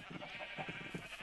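Sheep on a wool farm in a Minecraft-style video game bleat in quick, faint, wavering pulses, several short calls running together over a steady background hiss.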